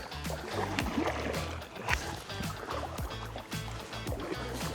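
A Native Titan X 12.5 kayak being paddled, with rhythmic dips and swishes of the paddle and water lapping against the hull, close and steady, mixed with wind and faint outdoor noise.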